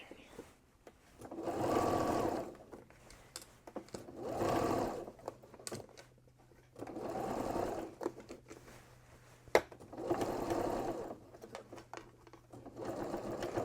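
A sewing machine stitches a zipper into a pencil skirt in four separate bursts of whirring, each a couple of seconds long, with quiet pauses and faint handling noises between, close and fairly soft.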